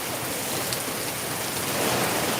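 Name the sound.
heavy rain with thunder in Darbhanga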